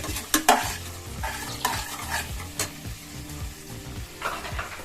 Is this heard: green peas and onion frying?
yes